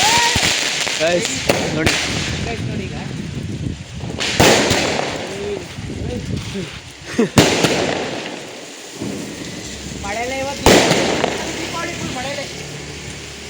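Firecrackers going off during Deepawali celebrations, several sharp loud bangs and crackling bursts spread through the stretch, with people talking in between.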